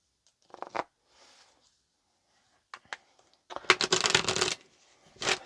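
Tarot cards being shuffled, with a short riffle early on and a longer, louder burst of card shuffling later, followed by another brief flutter; fairly close and quiet, with no one talking.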